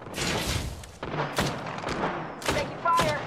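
Gunfire in the Apex Legends video game, a few sharp, separate shots with echoing thuds spaced about a second apart, up close with some game noise around them.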